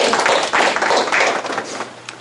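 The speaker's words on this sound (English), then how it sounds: "Give her a big round of applause." An audience at a hypnosis training session applauds in a dense, steady burst of clapping that fills the whole moment, with no voices over it.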